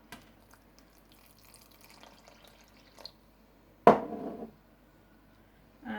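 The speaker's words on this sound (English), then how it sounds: "I'm going to add the water." Water pours into a well in the flour for keema samosa dough, a short splashy burst near the end after quiet mixing sounds, close and moderately loud.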